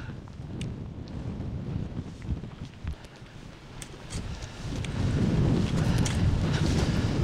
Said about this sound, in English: In fact, it's getting windier as I go up.